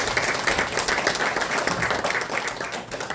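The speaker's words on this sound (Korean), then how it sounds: "박수 좀 부탁드리겠습니다" Audience applause at a lecture by a former prime minister, a dense steady clapping that holds loud and even from start to finish with no voices above it.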